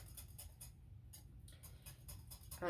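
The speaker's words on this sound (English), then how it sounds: "So I'm just whisking this with our piano wire whisk." A piano wire whisk beats nut milk in an enameled pot, making quiet, quick rhythmic ticking strokes with a brief pause partway through.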